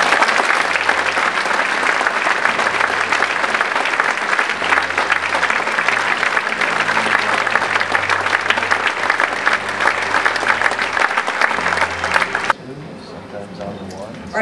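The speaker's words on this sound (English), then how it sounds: "Please join me in a round of applause for our honorees in the finance category." Sustained applause from an awards gala audience for honorees at the Top 100 Women in the North American Auto Industry event, dense and loud with music underneath, dropping abruptly near the end to quieter background.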